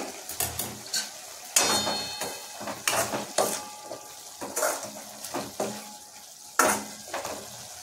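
Cluster beans and potatoes bubble and simmer in a pot, with intermittent stirring scrapes and clinks against the metal at irregular intervals, close by.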